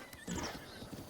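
A horse whinnies with a few hoof clip-clops in The Legend of Zelda: Breath of the Wild, a short, close burst of neighing over light game ambience.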